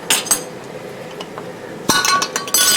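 Glass canning jars clink sharply and close together as a half-pint jar is added among them, a few bright ringing knocks at the start and a louder cluster of clinks toward the end.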